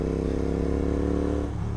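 A motorcycle engine runs steadily at close range, a continuous low drone with a slight drop in tone near the end, ridden along without any talking over it.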